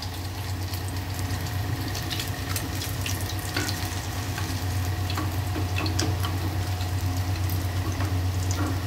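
Topse fish frying in oil in a pan over a low gas flame, giving a continuous, even hiss and sizzle with a steady low hum beneath. No voices.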